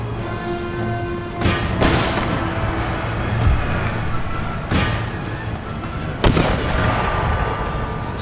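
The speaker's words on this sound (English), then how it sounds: "Some mortars firing on us, I think." Mortars firing in the Empire: Total War battle game, with several loud booming blasts spaced a second or more apart over a constant roaring battlefield din.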